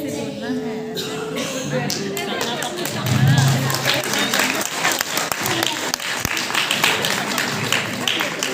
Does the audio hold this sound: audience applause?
yes